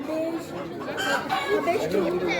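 Harsh, rapid cackling calls from several helmeted guineafowl close by at a zoo, with a child's and adult's voices chattering over them.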